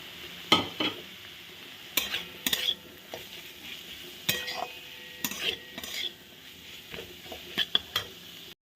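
Ground spices (red chilli, cumin and coriander powder) go into a pan and are stirred, giving a low sizzle under repeated close scraping and clinking of a utensil against the pan in irregular bursts, with no voices.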